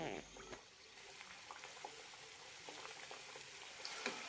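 Egg puffs deep-fry in hot oil at medium flame, a continuous bubbling sizzle with a sharp burst at the start and scattered crackles throughout.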